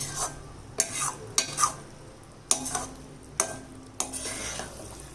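A spoon scrapes and stirs thick pumpkin and nut halwa in a pan, about seven distinct scraping strokes at an uneven pace, close and clear, with a faint soft sizzle between strokes and no talking.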